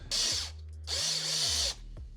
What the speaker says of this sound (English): he basically cleared up the threads so we could actually get the bolt through